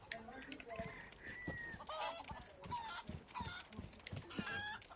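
Chickens cluck and squawk in scattered bursts in the video game Resident Evil 4 VR mode, near and moderately loud, with muffled voices and thumping movement mixed in.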